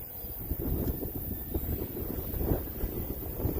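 Outdoor wind buffets the microphone in irregular low rumbling gusts, a continuous blustery roar with no voices present.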